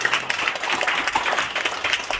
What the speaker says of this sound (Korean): 우리 함께 하나님께 박수를 드립니다.